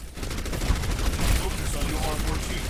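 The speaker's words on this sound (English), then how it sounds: "I'm just gonna blind fire for a bit." Rapid sustained blind gunfire in the Overwatch video game, a loud dense burst of continuous shots filling the whole stretch with no pauses.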